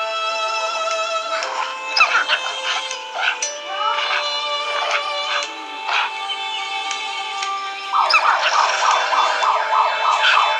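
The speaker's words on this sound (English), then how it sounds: "If you hear the thing in the background, that's the megaphone making that noise." A megaphone wails a siren tone in the background, a wavering electronic pitch rising and falling continuously, moderately loud, with a faster warble near the end.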